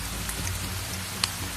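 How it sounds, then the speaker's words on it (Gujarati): Heavy storm rain pours steadily on surfaces, a dense continuous hiss with a brief sharp drop-like tick near the end, fairly close and without voices. "વીજળીના કડાકા, ઝડપી પવન અને ધોધમાર વરસાદ"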